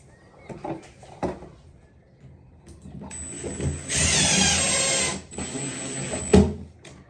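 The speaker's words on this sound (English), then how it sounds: "Now I'm using longer screws because I've put timber behind this." A power drill drives longer screws into timber while a thermostatic bar shower column is fitted, whirring close up in two bursts of about two seconds each, with light clatter of handling before and after.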